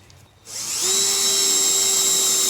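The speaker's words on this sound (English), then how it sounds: "Drill it." A power drill with a Forstner bit spins up sharply after a brief quiet moment, settling into a steady high-pitched whine as the bit cuts wood scraps.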